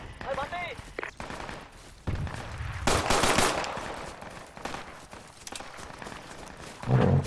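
Gunfire in the military shooter game Project Reality: repeated bursts of rapid automatic fire, some loud and close and some more distant, mixed with footsteps and game noise.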